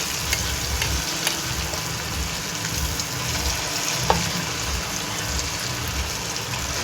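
Chicken 65 pieces frying in hot oil, a steady loud sizzle throughout with a few faint clicks and pops, no voices.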